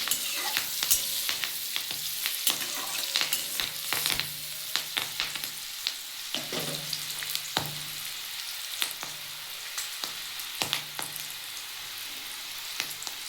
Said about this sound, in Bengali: আমি একটু সামান্য হলুদ দিয়ে এই পেঁয়াজটা একটু ভেজে নেব